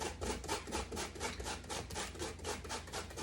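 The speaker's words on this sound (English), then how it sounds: "grate away at the orange peel, and you just pull this off" Orange peel rubbed on a medium rasp grater makes a quiet, close, rhythmic scraping, with about a dozen even strokes in just over three seconds.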